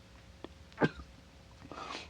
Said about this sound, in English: The herb's making me sneeze.